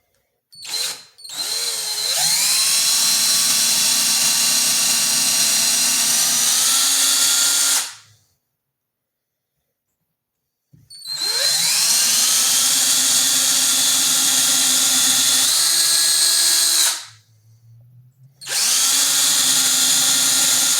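Loud power drill whining at high speed in two long bursts while drilling into a Telecaster guitar body, with a short rev at the start and silence between, no talking.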